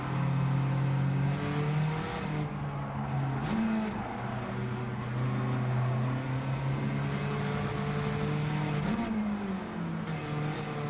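A racing car engine in a racing video game revs steadily and loudly through the gears, its pitch climbing and dropping with each shift over a continuous drone, with no one talking.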